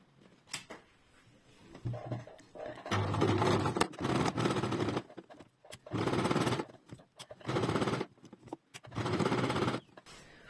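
A sewing machine stitches a shirt hem in several loud, whirring bursts of a few seconds each, separated by short pauses and small clicks as the fabric is repositioned.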